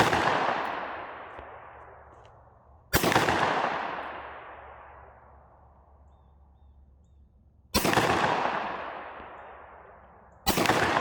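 Four sharp handgun shots at an outdoor shooting range, each loud, close crack trailing into a long echoing decay, spaced unevenly a few seconds apart, with no voices.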